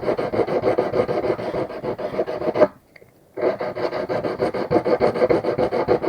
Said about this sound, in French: toujours poncer avec une cale pour pas creuser où il faut pas